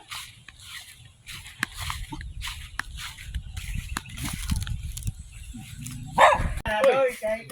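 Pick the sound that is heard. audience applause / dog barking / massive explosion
dog barking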